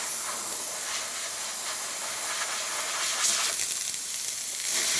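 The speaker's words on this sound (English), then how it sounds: "we're going to test the steam one" A steady, loud hiss of steam jetting continuously from the steam wand of an ECM Mechanika IV espresso machine, close by and unbroken throughout.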